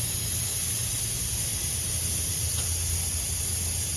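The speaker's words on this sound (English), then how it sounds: "It's leaking from that crack." Air hissing steadily out of a crack in a blown-out tire on a Mustang, a continuous close broadband rush with a low hum underneath and no talking.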